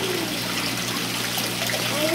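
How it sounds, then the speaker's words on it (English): Water trickles and splashes steadily in an outdoor water fountain, a constant close babble of flowing water filling the whole moment. "Today I am in the water fountain."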